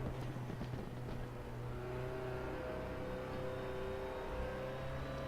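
A DTM touring race car in the Raceroom sim builds revs on throttle at Zandvoort, a steady close engine drone with a rising whine, no talk over it.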